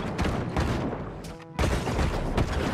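Sniper rifle fire in the game Fortnite, loud dense booming shots filling the clip, with a brief dip before another heavy blast hits at about the midpoint and the roar continues.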